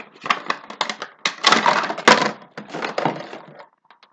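Cardboard and plastic packaging of a Funko Pop Scarlet Witch bobblehead figure being torn and opened, a close, busy run of crinkling, ripping and rustling bursts that stops near the end, with no talking.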